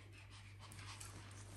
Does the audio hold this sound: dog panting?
yes